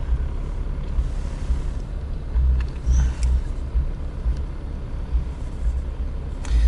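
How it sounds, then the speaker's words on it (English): City traffic in Toronto heard from inside a car as a steady low rumble of engines and road noise, continuous and moderately loud with no talk. "The traffic will be like once again bumper to bumper."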